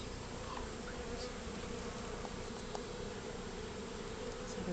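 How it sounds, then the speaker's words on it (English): Honeybees buzz in an open hive during a colony check, a dense steady drone of many insects close by, quiet but continuous with no talk. "you can see there, lots of bees"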